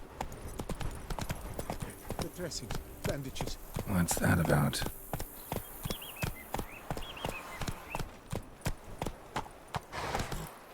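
Horse hooves clip-clop at a steady walking pace in Witcher 3: Blood and Wine, close and distinct, with someone talking over them and a busier burst of movement midway.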